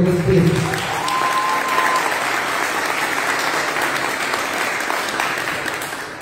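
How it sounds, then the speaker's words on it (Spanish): Applause from an audience at an event, a dense, steady clatter of many hands holding at an even loudness for several seconds before easing slightly at the end, with a voice audible briefly at the start. "Un aplauso para Camilo Restrepo."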